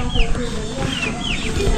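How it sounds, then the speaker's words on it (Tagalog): Chickens about 45 days old cluck and chirp on a farm in Tiaong, Quezon, with several short rising calls in quick succession amid rustling background noise and nearby human activity. "Mga manok nila dito, guys."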